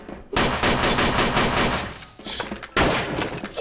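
Loud, dense bursts of rapid automatic gunfire from a multiplayer shooter game, firing nearly continuously with brief pauses and a fresh burst near the end.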